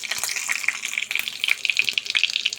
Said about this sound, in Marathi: राई आणि जिरे चढकायला लागले आहेत